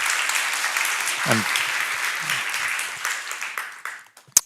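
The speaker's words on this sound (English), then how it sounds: "Round of applause" Audience applause after a session at a genomics plenary, a dense, sustained crowd clapping that tapers off over several seconds, with a voice speaking briefly partway through and a single sharp clap near the end.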